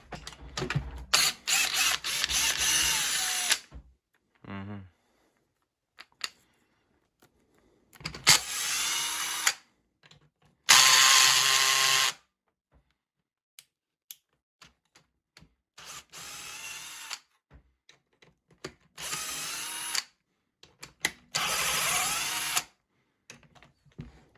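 A power tool works the screws on an MBK Booster 70 scooter engine block in bursts of a few seconds, whirring and ratcheting close by, separated by silences with small clicks and handling knocks.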